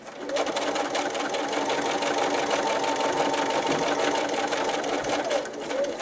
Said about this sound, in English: go over to the sewing machine to edge it all the way around